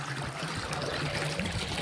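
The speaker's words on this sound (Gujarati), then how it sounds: "પાણી ચાલુ થઈ ગયું છે આ બમ્પળે" Irrigation water runs into a tobacco field channel, a continuous near trickling and gurgling flow that holds steady throughout, with no talking.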